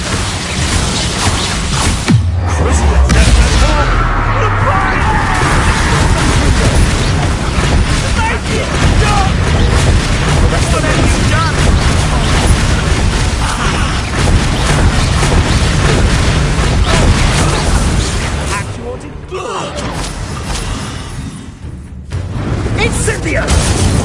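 A spell explosion in Hogwarts Legacy sets off a loud, sustained boom with dense, continuous blast noise. The roar dips briefly near the end, and talk runs over it.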